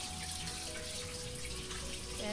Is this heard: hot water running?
yes